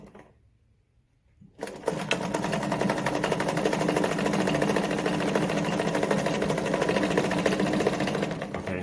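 A Singer model 237 sewing machine starts after a quiet second or so and then sews a fast zigzag stitch, a rapid, steady mechanical chatter running continuously to the end.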